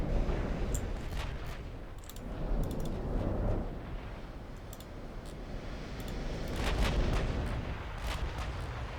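Naval guns in Ultimate Admiral Dreadnoughts fire on a battleship in a long series of booming blasts. Rolling rumbles swell and fade under scattered sharp cracks and pops.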